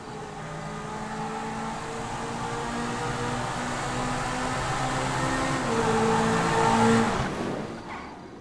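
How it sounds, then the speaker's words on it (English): Pegassi Vacca supercar engine in the GTA V video game, a steady, loud, droning engine note that swells around the sixth and seventh seconds before cutting away abruptly near the end. "the Vacca sounds the best in my opinion"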